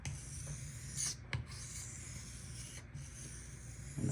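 A Benchmade 940 knife blade is drawn across a high-grit sharpening stone in continuous soft, close rubbing strokes with a fine, even scraping texture.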